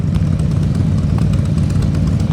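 A motorcycle engine idling and running at low speed during slow-speed riding practice, a steady close low throbbing drone with slight unevenness throughout, heard alone with no talking.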